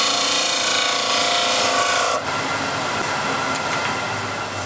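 A hand tool cuts ribbons of wood shavings inside a bowl, giving a loud, continuous rasping scrape close by. Partway through, the stroke eases into a softer, coarser rub.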